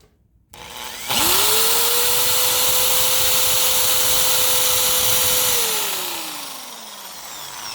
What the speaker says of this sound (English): if I put it on the drill side, watch what happens. It won't go, it will just spin.